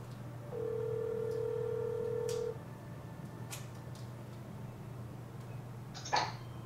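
An outgoing phone call rings on the line. A steady ringback tone sounds for about two seconds over a low hum. Faint clicks follow, then a short chirp.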